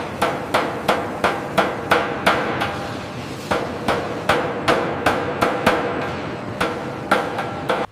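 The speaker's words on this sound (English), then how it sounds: "We call this uchidashi, hammering out the soul of the metal." Hand hammering of sheet metal to shape the nose of an N700S Shinkansen bullet train: loud, close, evenly spaced metallic strikes in a steady rapid rhythm, each ringing briefly over a constant workshop hum.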